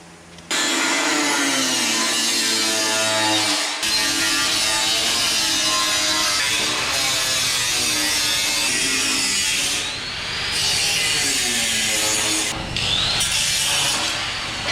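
Power tool trimming a metal weld-in car repair panel, a continuous loud close grinding whine that runs almost unbroken with a few short pauses and shifts in pitch as the cut moves along.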